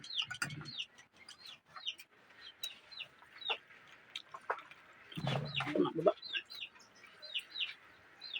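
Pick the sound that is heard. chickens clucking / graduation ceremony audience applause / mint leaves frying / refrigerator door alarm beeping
chickens clucking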